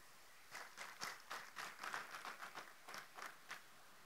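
A church congregation at a Sunday worship service applauds, a faint, distant patter of hand claps coming in irregular bursts for several seconds with no voices over it.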